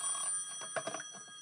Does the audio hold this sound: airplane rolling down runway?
no